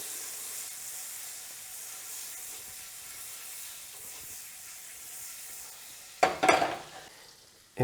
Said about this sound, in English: we're going to add about half a tablespoon of butter. And we just want to melt that.